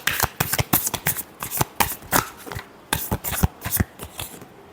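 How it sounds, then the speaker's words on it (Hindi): Tarot cards are shuffled by hand in rapid crisp riffles and slaps, a steady run of close, sharp papery snaps lasting a few seconds with no talking. "Last shuffle."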